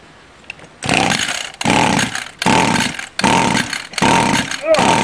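A flooded Stihl weedeater engine sputters in repeated short bursts, revving up and cutting out about five times, loud and close.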